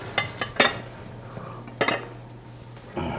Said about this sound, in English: Taking that lid off.